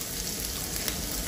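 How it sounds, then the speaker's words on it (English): Mustard seeds popping and sizzling in hot oil in a pan at the start of cooking Kanda Poha, a steady close hiss of frying with no talk. "Let it pop. You could hear it sizzle."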